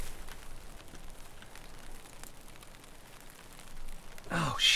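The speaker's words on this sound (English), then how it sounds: "Bloody rain. It's always raining." Steady rain hisses across the whole stretch in the video game Escape from Tarkov, a constant soft wash of drops, with a louder, brighter burst of noise near the very end.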